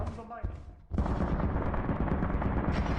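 Gun turrets fire in Lies of P, a dense, loud run of rapid shots and blasts that surges in after a brief lull and keeps going without a break.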